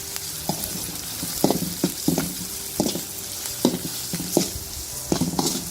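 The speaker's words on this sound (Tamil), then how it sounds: "இஞ்சி பூண்டு நல்லா பச்சை வாசம் போகிற வரைக்கும் வணக்கணும்" Ginger and garlic fry in a pan for a red chilli mutton curry. Under the steady sizzle, spoon scrapes and stirs come in short bursts.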